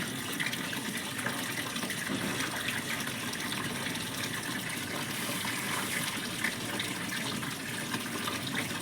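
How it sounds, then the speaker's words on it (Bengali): Water gushes steadily from a fully opened garden tap at night while plants are being watered, a continuous even rush that holds alone from start to end. "দেখো না, পুরো কল খুলে দিয়েছি।"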